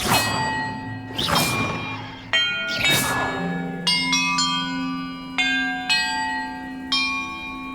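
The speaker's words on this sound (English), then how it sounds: "Perhaps the map contains clues about the order I'm supposed to ring the bells in." Bells ring one after another in the video game Hogwarts Legacy. Several loud metallic strikes each leave a long shimmering decay, and the tones overlap with a low drone and no talking.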